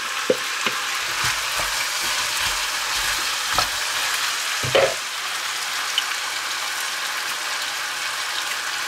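Onions fry in a Dutch oven with a continuous sizzling hiss, while several sharp knocks and scrapes of a utensil against the pot come in the first half.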